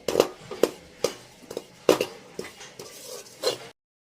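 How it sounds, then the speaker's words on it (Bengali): Poppy seeds roast in ghee in a pan, with a utensil striking and scraping the metal in a string of sharp, evenly spaced clinks and knocks before the sound cuts off abruptly. "এদিকে আমি কিন্তু পোস্ত ভেজে নিচ্ছি লাড্ডুতে দেওয়ার জন্য"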